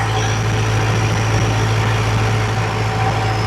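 A diesel-powered classic Chevy Apache truck cruises steadily at 60 mph, its engine giving a constant low, heavy drone close by and nearly idling, with no voices over it.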